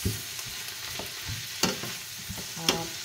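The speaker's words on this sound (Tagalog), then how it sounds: "Tapos, dahil luto naman na yung mga yan, pwede na natin ilagay yung ating noodles" Shirataki noodles stir-fry in a hot pan with a steady soft sizzle, broken by a few close scrapes and clacks of a utensil, and no talking.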